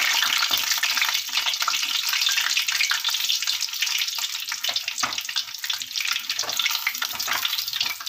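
Soaked, ground urad dal medu vadas deep-fry in hot oil, producing a loud, dense, close crackling and bubbling hiss that holds steady throughout with rapid popping bursts.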